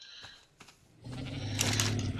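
Sheep in the Ark video game bleat close by, a short bleat and then a longer, louder wavering call that fills the second half, with no talk.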